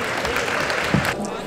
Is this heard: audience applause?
yes